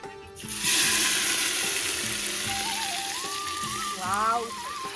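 Marinated mutton with spices frying in a clay pot, a steady sizzle filling the whole stretch, with a tonal voice-like sound drifting over it partway through.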